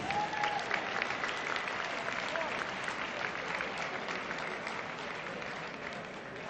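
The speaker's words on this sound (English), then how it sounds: "How about a big round of applause for all those Hall of Famers?" At an athletic Hall of Fame induction ceremony, a large audience gives a sustained round of dense clapping that fills a hall and gradually tapers off.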